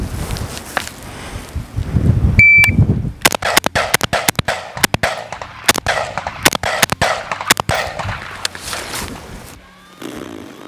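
Rapid gunshots fired at targets by a shooter wearing flexible Jacked Rabbit plates, loud sharp cracks in uneven bursts over about eight seconds, with rustling and movement between shots and quiet at the end.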